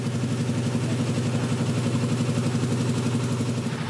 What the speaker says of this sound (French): Du moins jusqu'à ce que le moteur diesel de Stéphanie se mette en route.